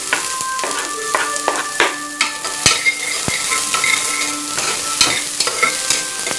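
Carrots and beans sizzle and fry in a pan as a utensil stirs and scrapes them, with repeated metallic taps against the pan over a steady hiss, loud and close.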